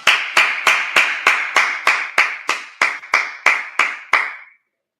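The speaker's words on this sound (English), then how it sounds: "All right, let's clap it up." Hands clapping in a steady, even rhythm, about a dozen sharp claps close by. Each clap rings out briefly before the next, and silence follows the last one.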